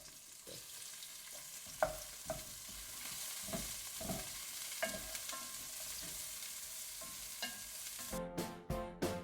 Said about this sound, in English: putting in a little bit of olive oil. Okay, onions first because garlic burns.